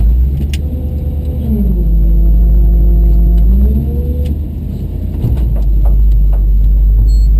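Wrecker truck on a rock run rescue, crawling over rocks near a tree: a loud, deep engine rumble rises and falls with revving, with occasional knocks and clunks.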